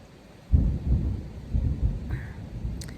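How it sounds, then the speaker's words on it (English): Thunder rumbling in a rural hayfield setting during a storm: a low, rolling boom that starts abruptly and keeps grumbling in uneven waves for a few seconds, with faint rain and rustling behind it. "it is thundering again"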